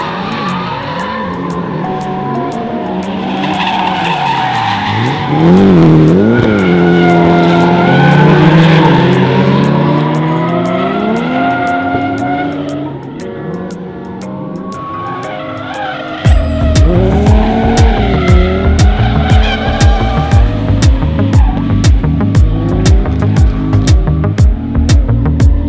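A car doing donuts on worn tires howls with repeated tire squeals and skids as the engine revs and wails in waves, loud and close; midway the sound shifts to a harsher, rhythmic pulsing of engine and screeching rubber.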